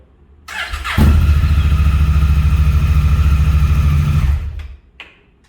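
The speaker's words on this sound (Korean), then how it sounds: "2기통 엔진인데 방금 시동 제가 걸었잖아요." A 2017 Honda Africa Twin two-cylinder motorcycle engine cranks and fires, then runs at a loud, steady near idle for about three seconds before cutting off, with a brief mechanical click afterward.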